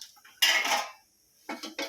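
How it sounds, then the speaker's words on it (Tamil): A metal lid clinks onto a pot of boiling garlic curry with a sharp rattle, followed by a pause and a few lighter taps as it settles. "கொதிக்கிட்டோம், நம்ம மூடி வச்சிடலாம்."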